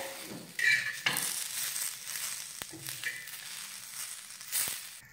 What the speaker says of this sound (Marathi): आणि त्याचबरोबर तीळ घालूयात आणि आता ह्या कांद्याबरोबर हे सगळं व्यवस्थित भाजून घेऊयात।